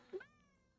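A pet cat gives one short, close meow that rises and then trails off quietly.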